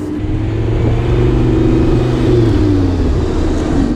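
A Lamborghini Gallardo LP550-2 revs loudly up close, a deep, rich engine drone with strong harmonic layers that swells and shifts pitch slightly as the revs climb and ease, filling the whole stretch.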